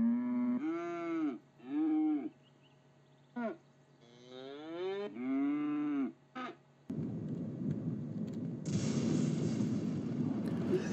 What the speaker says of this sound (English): it even makes you take care of your own weird pet. In this case, a standing up cow.